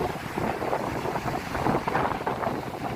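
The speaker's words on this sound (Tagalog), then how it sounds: "Lakas ng hangin tapos agas pa ang alon." Strong wind and rough waves at sea near a fishing boat, a dense continuous roar of gusts buffeting the microphone with water washing underneath, no voices.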